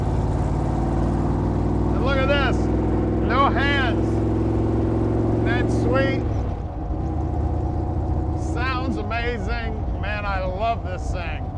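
A 1977 Jeep CJ-5 engine on a test drive gives a steady, loud low rumble that eases slightly partway through, with someone talking over it almost throughout.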